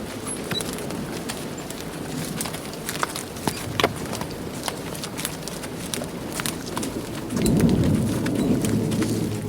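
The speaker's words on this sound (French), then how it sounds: "La tempête ne cesse point." A stormy night with steady rain pattering on surfaces and sharp crackles of thunder, swelling toward the end into a deeper rumbling roar, with soft footstep-like thuds underneath.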